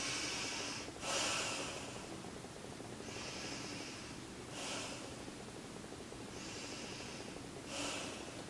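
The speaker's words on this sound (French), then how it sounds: "On prend 3 respirations." Slow, deep breaths during a prenatal yoga session, heard as airy inhales and exhales repeating every couple of seconds. They are close and soft, with no talking over them.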